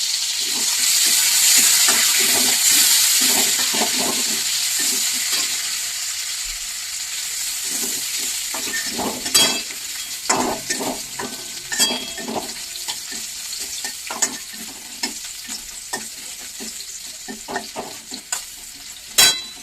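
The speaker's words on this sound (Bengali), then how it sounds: "এর মধ্যে আমি প্রথমে দিয়ে দেবো এই রসুন কুচিগুলো।" Chopped garlic sizzles and fries in a pan for a vegetable-chicken salad, a steady bright hiss with repeated scraping stir strokes growing more frequent toward the end, close and fairly loud with no talking.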